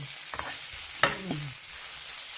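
Fried rice with carrots, peas and corn being stir-fried: a constant sizzling hiss, with one sharp scrape and squeak of a utensil against the pan midway.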